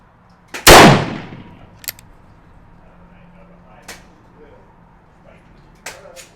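A Colt Walker revolver fitted with a Kirst Konverter fires a single loud, sharp .45 Colt shot outdoors at a range, followed by a few faint clicks and knocks.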